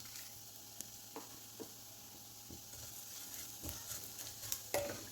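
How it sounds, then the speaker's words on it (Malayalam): Roasted vermicelli being stirred into sautéed onion in a pan: soft scraping and stirring strokes with a faint sizzle underneath, quiet and close, with no voices. "ഉള്ളി 1 മിനിറ്റ് വഴറ്റിയ ശേഷം അതിലേക്ക് നമുക്ക് വറുത്ത് വെച്ച സേമിയ ഇട്ട് കൊടുക്കാം."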